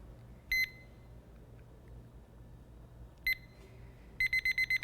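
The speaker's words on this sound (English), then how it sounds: "I'm gonna go ahead and set my timer." Kitchen timer being set for 20 minutes, giving a short burst of high electronic beeps, a second burst a few seconds later, then a rapid run of four or five quick beeps, over a quiet low room hum.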